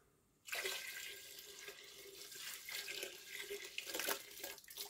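Water pours from a tap into a cooking pot holding sliced brown onions and oil, a sudden steady splashing rush that starts after a brief quiet and runs on with shifting intensity.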